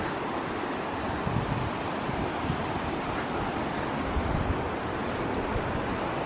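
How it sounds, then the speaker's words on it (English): A mountain river between Swat and Kohistan rushes in a steady, dense wash of water noise with some wind, with no voices over it. "The river goes all the way down."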